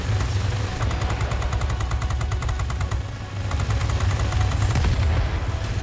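Aircraft guns in World of Warplanes fire in rapid, loud bursts, a rattling stream with a brief gap near the middle before resuming, engine drone underneath and no voices.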